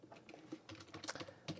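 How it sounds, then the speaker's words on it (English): Quick, irregular keystrokes as C# code is typed on a computer keyboard, a close and fairly quiet run of clicks with brief pauses and no talking. "I guess I'll just type that one in."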